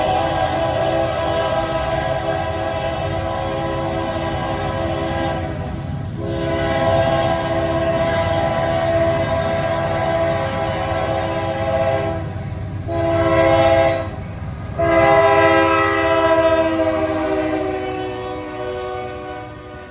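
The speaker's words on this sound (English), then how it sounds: "A train was coming. I could hear its horn in the distance." A northbound intermodal freight train sounds its horn in long sustained blasts with rich harmonic chords, separated by short gaps, over the steady rumble and roar of the passing train close by in Greenville, South Carolina.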